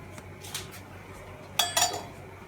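A biryani pot with black pepper is set down on the stove for dum cooking, giving a few faint metallic clinks followed by two sharper, closer clanks of the pot and lid in a quiet kitchen.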